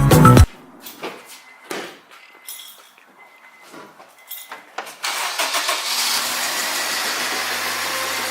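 A Stillen supercharged Nissan 370Z starts after a few quiet clicks and rustles, then settles into a steady, close idle that hums on to the end.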